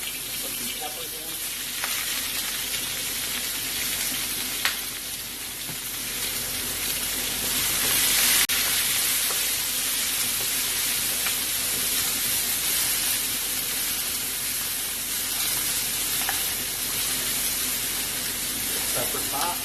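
Peppers sizzle in a hot, well-oiled pan for a beef broccoli garlic Szechuan stir fry, giving a steady, close frying hiss throughout with faint speech over it.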